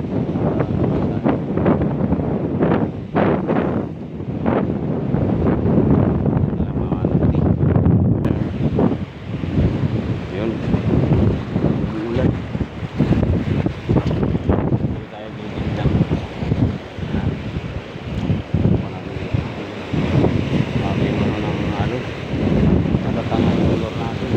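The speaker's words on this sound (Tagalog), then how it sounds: "Sobrang lakas ng hangin." Strong wind at the sea off Culasi, Antique, buffeting the microphone with a constant roar, surf and waves churning underneath, and occasional voices mixed in.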